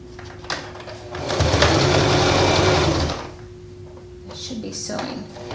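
A sewing machine stitches garment pieces together with piping in one steady, close whirring run of about a second and a half, with a person talking before and after it.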